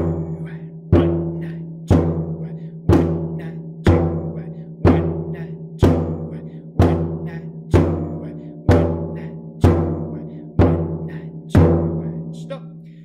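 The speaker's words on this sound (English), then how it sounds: "we're just going to strike the drum on the number one and the number two" A samba surdo drum is struck in a steady pulse on counts one and two, about one deep booming hit per second. Each hit rings out and decays before the next, thirteen strikes in all, played alone and close.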